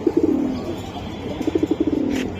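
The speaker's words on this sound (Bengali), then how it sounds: "এটা ভাই পুরো লাইট কালার সিলভার কবুতর" Light silver giribaz pigeons coo close by in two rhythmic bursts of throaty, pulsing notes separated by a short pause.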